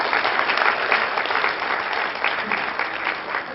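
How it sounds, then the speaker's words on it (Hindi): An indoor audience at a meditation birthday gathering in Delhi claps loudly together, a dense, sustained burst of applause with no pauses. "चलिए अब ताली बजाइए जोर से अपने लिए।"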